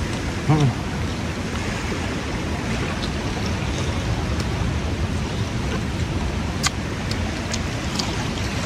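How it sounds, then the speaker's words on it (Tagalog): Steady broadband wash of sea waves rolling in, continuous and fairly loud, with a brief voice near the start. "Ang ganda ng dagat, no?"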